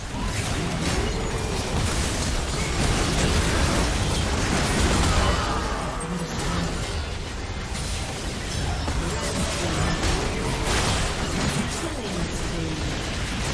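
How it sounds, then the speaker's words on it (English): Game battle noise from a League of Legends mid-lane match with Cho'Gath against Garen, including bursts, pops and crashes of a turret being destroyed, continuous and busy throughout, mixed with faint voice lines. "Team's turret has been destroyed."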